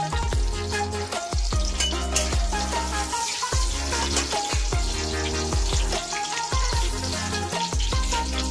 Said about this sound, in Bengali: তেজপাতা শুকনো লঙ্কা দিয়ে দিলাম